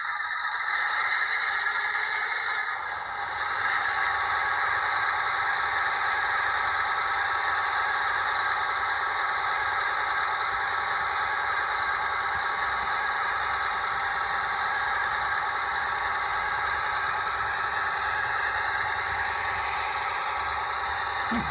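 A continuous locomotive engine drone plays as an added sound effect on a live rail stream, a steady loud mechanical hum with a faint rattle and no talking.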